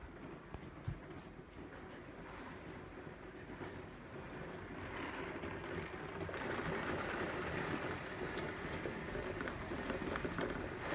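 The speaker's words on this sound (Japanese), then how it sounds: "雨と風がすごいことになってます。" Heavy rain and strong wind from Typhoon 19 roar steadily for the whole stretch, a dense, even wash that builds slightly louder partway through, with no voices over it.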